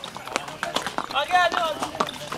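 Several horses shift about close by, with hoof clops and a snort or whinny-like sound. Someone talks loudly over the animals throughout.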